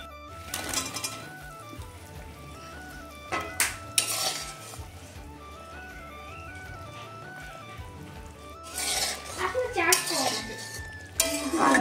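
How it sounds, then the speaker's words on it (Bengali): Fried egg kebabs are added to gravy in a pot, with clattering utensil and pot knocks in a few bursts, some soft stirring and faint bubbling between them. "এখন এই ঝোলের মধ্যে ভেজে রাখা ডিমের কাবাবগুলো দিয়ে দিচ্ছি।"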